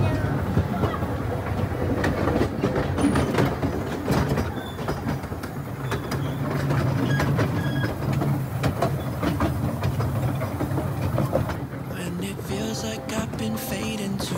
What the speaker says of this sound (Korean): 산속을 달리는 미니기차